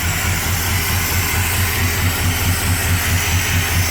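A Mopar small-block V8 with dual four-barrel carburetors idles on its own, a steady low rhythmic lope with even pulses, close and moderately loud.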